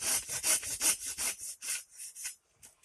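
A hand saw cuts through wood for carving a ladle: about a dozen close, rhythmic rasping push-pull strokes that slow and trail off toward the end, with no talking.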